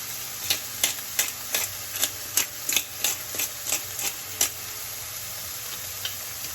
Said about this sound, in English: Now we're kind of like toasting our spices together as well with the vegetables.